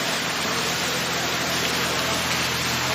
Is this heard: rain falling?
yes